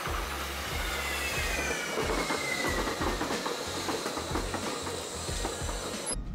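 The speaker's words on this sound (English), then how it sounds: "The train actually came pretty quickly, and surprisingly, it wasn't that crowded either." A London Underground tube train rumbles along steadily with a rhythmic clickety-clack of wheels, hiss and faint squeals, heard from inside the carriage on a route toward Wimbledon.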